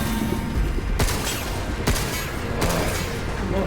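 Video-game weapon fire, heavy and continuous, with sharper bursts standing out roughly every second over a dense wash of battle noise.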